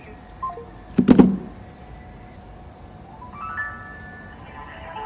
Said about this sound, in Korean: 자, 전화 갑니다.